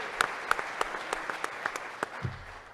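Applause from an audience at a Greeley gathering honoring local officials, a modest crowd clapping with distinct individual claps standing out, steady and fairly near, tapering off at the end.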